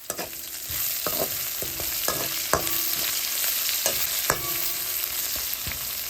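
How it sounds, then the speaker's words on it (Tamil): Cabbage with salt is sautéed in a pan, making a steady sizzle punctuated by several sharp spatula scrapes and taps as it is stirred, with no talking. "இதனால் கொஞ்சம் உப்பு போட்டுக்கொள்ளுவோம். வதங்கட்டும்."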